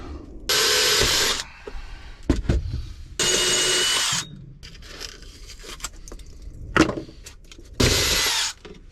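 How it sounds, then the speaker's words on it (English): Power drill boring a new drainage hole during a garage remodel, in four loud bursts of about one second each, separated by clatter and handling noise, with no talk. "All right, time to drill the new drainage hole."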